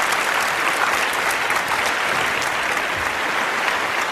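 Audience applause welcoming a speaker at a book talk, a continuous, dense roar of clapping from a sizeable crowd, loud and even throughout with no voices over it.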